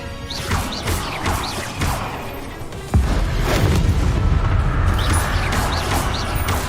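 A Confringo fire spell blast in Hogwarts Legacy, a sharp crashing boom that hits close and loud about halfway through, set against ongoing swishes and impacts of the combat.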